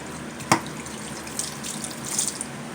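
Water runs steadily from a tap into a sink for wetting the face, a soft continuous splashing close by with a sharp clink near the start.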